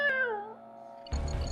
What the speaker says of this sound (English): Where did the cat come from?